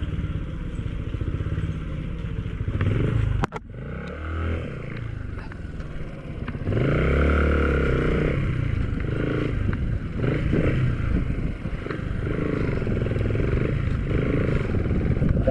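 A motorcycle engine runs steadily while riding over muddy bumps at a camp trail, with a sharp knock partway through and rumbling, jolting engine sound throughout.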